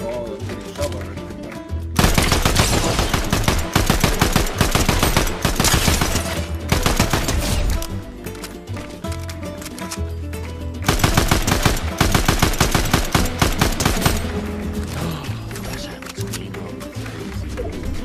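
Rapid automatic gunfire in Fortnite, shooting red paint: loud, dense bursts of fast shots in two long volleys with brief pauses between, close and harsh.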